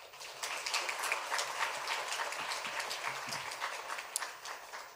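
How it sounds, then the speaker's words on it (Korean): A congregation claps in welcome during a Sunday worship service: steady, dense applause from many hands, fairly distant and even throughout, with no voices over it. "환영의 박수 한번 하겠습니다"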